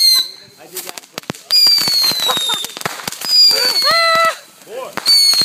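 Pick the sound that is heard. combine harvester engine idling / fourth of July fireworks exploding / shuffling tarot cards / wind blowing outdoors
fourth of July fireworks exploding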